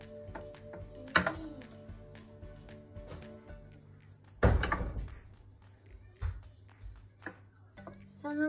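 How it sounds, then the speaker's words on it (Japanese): A door swung shut hard indoors in a home kitchen, giving one loud impact midway amid scattered clatter and quieter knocks, with a voice briefly in the background. "ドアは静かに閉めてください。"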